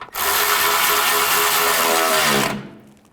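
A power tool drives bolts tight on a Chrysler 200 water pump installation, a loud steady whirring run of about two and a half seconds that stops abruptly.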